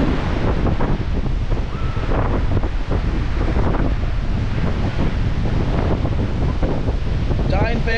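Steady wind gusts buffet the microphone on a sunny Boracay beach at Station 1, a constant loud roar with surf mixed in.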